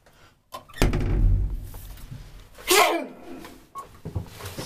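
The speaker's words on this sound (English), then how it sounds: "Sorry, I sneezed." A single short sneeze bursts out amid faint room noise, followed by a few soft thumps and rustles.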